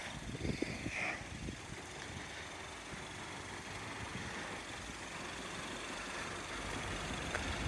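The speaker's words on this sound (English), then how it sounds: "Engine's lovely and quiet." A 2011 Peugeot RCZ's engine idles quietly, a low, steady hum holding evenly for several seconds with a faint knock near the start and no speech.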